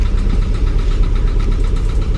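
A van engine idles steadily close by, a dense low rumble with a faint knocking texture that holds unchanged for the whole stretch, with no voices over it.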